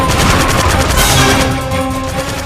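Dense bursts of gunfire crackle in a video game shootout against soldiers, loud and continuous, like sustained automatic weapons and rifle fire blending into a steady barrage with occasional heavier crashes.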